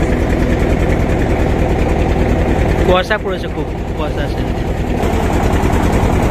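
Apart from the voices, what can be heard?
boat engine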